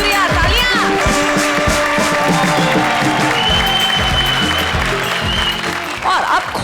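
A studio audience at the Indian TV comedy show Comedy Circus breaks into applause, a loud steady mass of clapping with music and a few cheers mixed in, continuous to the end.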